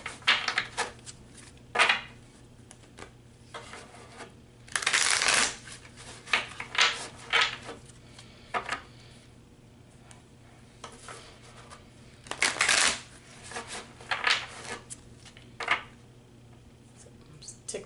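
Oracle cards being shuffled in repeated crisp riffling bursts, close and fairly loud, separated by quieter rustling and handling with no talk.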